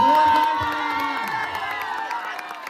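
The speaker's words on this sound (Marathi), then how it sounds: "एकदा जोरदार टाळ्या वाजवा." An audience at a fancy dress contest during a Navratri festival cheers and shouts loudly, children's voices prominent, the crowd noise fading slightly over a few seconds.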